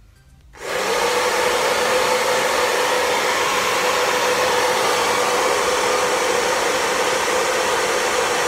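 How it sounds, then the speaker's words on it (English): A hair dryer fitted with a diffuser attachment switches on after a brief quiet moment, then runs as a loud, steady, close-up whoosh of blowing air with no talking over it. "not to move the diffuser too much because that will make my hair really frizzy"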